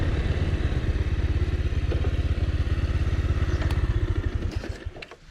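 A Bajaj Pulsar 150 motorcycle engine runs close and steady on an empty hill road in Wayanad, its pulsing drone fading as the bike slows and comes to a stop near the end.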